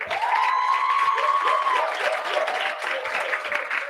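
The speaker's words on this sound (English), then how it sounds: "please give Ife, Dr. Ife Badajo, a huge round of applause." An audience at a national youth pitch competition breaks into sustained applause, dense clapping close and loud with a few whoops and cheers mixed in.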